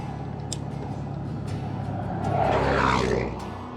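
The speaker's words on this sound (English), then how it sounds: "the car is going to go by" A car passes on a narrow Texas Hill Country road with no shoulder and a rumble strip. Steady road and wind noise swells into a broad whoosh as the car draws near, then fades as it moves away.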